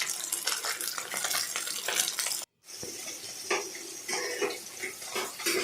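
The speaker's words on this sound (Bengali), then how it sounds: "লালচে করে আমি ভেজে নিলাম আমুদি মাছটা" Amudi fish sizzles in oil in a pan, a dense steady crackle with occasional utensil clinks and scraping, briefly cut off by a short gap partway through.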